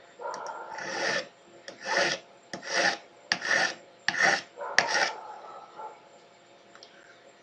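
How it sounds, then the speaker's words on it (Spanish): A piece of amber is hand-sanded with coarse sandpaper, giving about six close, rhythmic rasping strokes of roughly half a second each, separated by brief pauses and ending in a few lighter scrapes. "Pero con las lijas se lo vamos a quitar."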